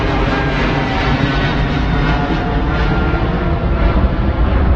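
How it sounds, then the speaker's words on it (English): A Cathay Pacific Boeing 777 passes low overhead at Heathrow, its jet engine roar loud, broad and continuous throughout, steady rumble filling the whole stretch with no talk. "Shadow of the aircraft right over us. Wow, 777. Cathay Pacific."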